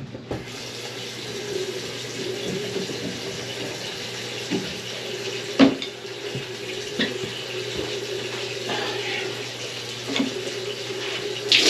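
Water from a bathroom sink tap runs steadily and moderately close, a continuous hiss and splash with small clinks and knocks in the background.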